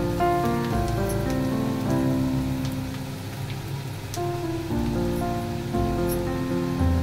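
Grated carrot fries lightly with onion in a pan, making a dense, continuous crackling sizzle like rain, steady and fairly loud, with a soft tonal hum behind it.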